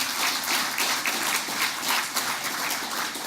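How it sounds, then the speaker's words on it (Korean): An audience at a Korean community news show bursts into sustained, loud applause, dense clapping from many hands filling the room without pause and no voice rising above it. "여러분 동의하시는 박수를 크게 한번 주십시오"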